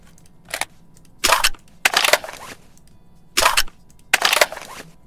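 Magazine-out reload effect from a Roblox FPS game, played as a series of short, sharp crunching clacks in separated bursts, loud and alone with no talking.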